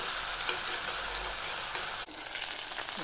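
Garlic and curry leaves fry in hot oil for a chickpea curry, giving a steady, dense sizzle that stays close and constant throughout with no voices.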